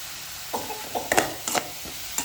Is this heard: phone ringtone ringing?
no